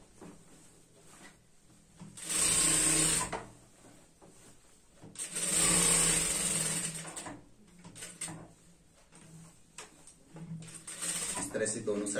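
A sewing machine stitches the sides of a semi-Patiala salwar in two loud bursts of about a second each, with quieter handling and a voice talking between them.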